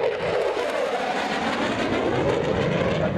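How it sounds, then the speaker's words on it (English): Aircraft at the Gulf Coast Salute air show at Tyndall Air Force Base produce a loud, continuous, broad engine roar that holds steady throughout. "We are at the Gulf Coast Salute Tyndall Air Force Show"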